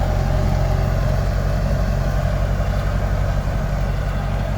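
A small tractor pulling a seeder while sowing squash on a field gives a loud, steady engine drone with a low, throbbing hum that holds constant throughout.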